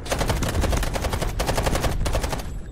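Rapid automatic gunfire from the video game Delta Force rattles out in dense, continuous bursts with brief pauses, loud and close, with no talk over it.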